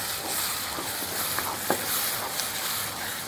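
Green sambal sautéing in a pan with onions and a splash of blender water, giving a steady soft sizzle and hiss with faint stirring clicks, close and alone.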